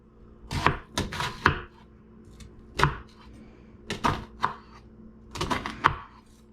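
A knife chops through half a red onion on a cutting board in a series of crisp, close thuds that come in uneven bursts, with short pauses between groups of strokes and no talking.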